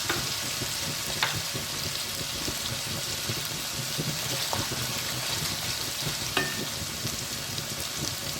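Eggplant pieces sizzle and crackle steadily in hot oil as ginger garlic paste is added, with a few sharp stirring clicks breaking through the continuous frying hiss, close and moderately loud.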